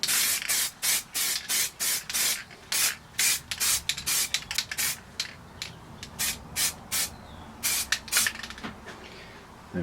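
A can of red primer sprays a base coat onto an EVA foam riverbed tile in a series of short, sharp hissing bursts, about twenty quick repeated strokes close by.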